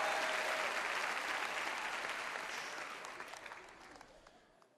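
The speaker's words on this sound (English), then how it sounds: "Let's make some noise for Eric Buss." A theater audience at a comedy and music show claps and cheers, starting loud and gradually fading over a few seconds.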